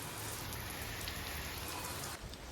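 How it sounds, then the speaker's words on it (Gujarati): Steady rain pours down outdoors in Gujarat, a dense even hiss of drops striking surfaces that continues without pause and fades slightly near the end. "અત્યારે ભાઈ વરસાદ ચાલુ થઈ ગયો"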